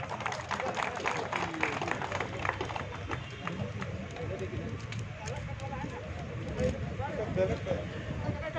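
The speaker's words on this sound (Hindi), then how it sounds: "मगर समवेत रूप में पूरे सफाई कर्मी विभाग को हम दे सकते हैं अपनी जोरदार तालियों का सलाम।" Crowd applause at an Independence Day ceremony honouring municipal sanitation workers, a steady mass of clapping that runs through the whole stretch with a busy, noisy outdoor hubbub beneath it.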